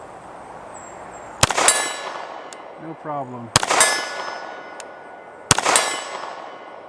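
Pistol shots ring off a large steel silhouette target at 60 yards, each sharp crack followed by a bright metallic clang that decays. Three impacts come spaced about two seconds apart, with a brief spoken remark between the first two.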